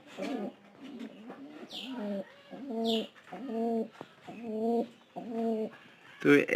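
Pigeons in a home loft where squabs are kept coo in a steady series of soft, throaty calls, about six repeated coos close by, with a brief flutter or scrape at the end.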